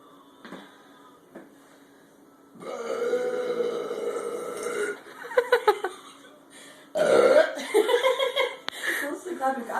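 Loud, drawn-out burping after drinking banana Sprite, with a long belch in the middle and another rough, stuttering one near the end, mixed with chuckles and grunts from people close by.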